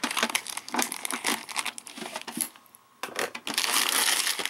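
Crinkly plastic wrap is snipped and peeled off a Pokémon Hoopa collector lunchbox tin with scissors, giving close, bursty crackling and crumpling with short pauses and no talking.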